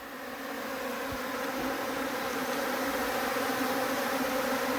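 Dense, steady buzzing of many honeybees around a hive, a continuous close drone filling the whole stretch with no voices.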